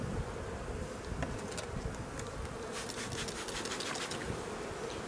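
A colony of honeybees in the hive supers gives off a steady, dense buzz that fills the space at close range, joined by a few faint scraping rubs and no voices.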